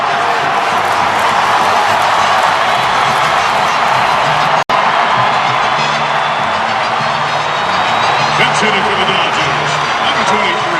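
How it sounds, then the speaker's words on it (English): Crowd roars at a Giants–Dodgers baseball game in the ninth inning, a loud continuous broadband wash of voices filling the stadium, with one sharp cut midway and faint calls over the roar. "The crowd finally makes a roar"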